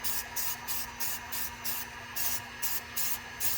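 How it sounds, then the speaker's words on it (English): Spray can of primer hissing in a run of short, even bursts with brief pauses between them, close by and steady, as light coats go onto a wheel rim. "Can's nice and warm, so I'm gonna go ahead and spray it"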